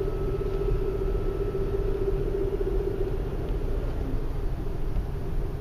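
Car interior while driving through Nicosia streets in Cyprus, a steady low engine and road rumble with a faint whining tone, continuous and even, no voices.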